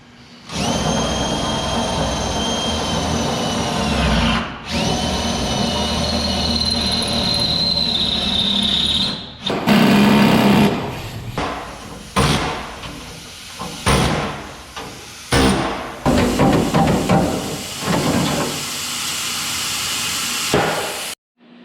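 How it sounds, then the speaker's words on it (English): A power drill whines in long, loud runs, drilling out spot welds on a Chevy II trunk pan, broken by clanks and short bursts of metal work, close by. "So as I'm cutting away here, you saw me kind of briefly drilling out the spot welds."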